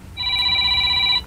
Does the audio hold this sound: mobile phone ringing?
yes